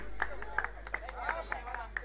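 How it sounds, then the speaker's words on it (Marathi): Scattered hand claps from a small crowd at a cricket tournament prize ceremony honouring the player of the match, uneven and fairly faint, with voices murmuring underneath. "जोरदार टाळ्या प्रसाद आंगणेसाठी"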